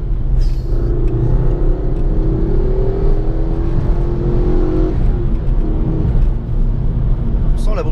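Ford Focus RS engine pulling hard on an open road, a loud steady drone with a slowly rising pitch heard close up from inside the car, continuous for several seconds.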